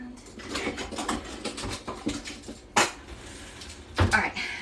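Metal kitchen utensils and dishes clatter as someone rummages through a drawer for a peeler, a run of close, sharp clinks and knocks with a couple of louder clanks.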